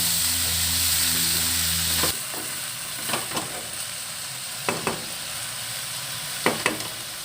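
Chopped taro and tomato sizzle steadily in a hot pan while being stirred, with a few sharp spoon scrapes and knocks standing out over the frying hiss.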